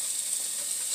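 A steady, bright sizzle of food stir-frying in hot oil in a wok, continuous and fairly close, with no voices.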